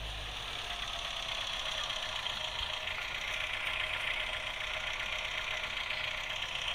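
A vehicle engine in PUBG New State runs steadily throughout, a continuous idling drone with a rough, knocking texture, even in loudness and with no talking over it.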